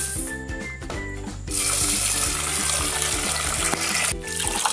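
Rice being washed in water for cooking, steady splashing and pouring with swishing bursts, close and continuous, with background music underneath and no talk.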